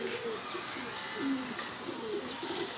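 A racing homing pigeon coos repeatedly in soft, rolling phrases close by, with a light, noisy background and faint voices.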